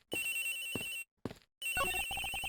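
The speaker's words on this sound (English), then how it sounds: "The ringing is coming from somewhere around here." A phone rings in the video game Ace Attorney Investigations with loud electronic ringtone bursts broken by short silences, the last burst turning into rapid repeated beeping tones.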